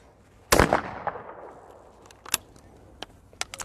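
A single loud gunshot at firing practice cracks out early and decays with echo, followed by a few fainter sharp pops and clicks.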